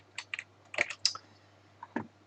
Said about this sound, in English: I'm clicking right, I'm clicking left with the keyboard, up and down